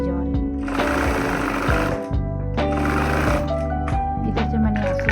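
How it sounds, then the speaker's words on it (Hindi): Sewing machine stitching the hem of capri pants, running in loud rhythmic bursts with short pauses between runs, close up, with a voice speaking at times. "सिलाई लगाती जा रही हूँ।"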